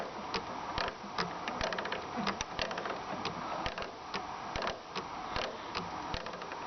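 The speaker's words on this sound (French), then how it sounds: "je vais mettre de la poire, je pompe jusqu'à ce qu'il n'y ait plus d'air" A fuel primer bulb on a Renault Scenic diesel squeezed by hand, producing irregular soft clicking and squelching pumps, close and fairly quiet over low background noise, with no speech.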